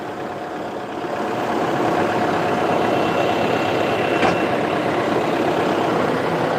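A tractor engine runs steadily at close range on a homestead, a continuous low rumble that swells slightly after the first second and then holds even, with no talking.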